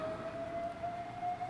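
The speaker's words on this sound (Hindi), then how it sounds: "एम्बुलेंस का है क्या जी यहाँ पे साउंड?" An ambulance siren sounding at a distance as a faint steady tone held over a low background murmur, with no voices.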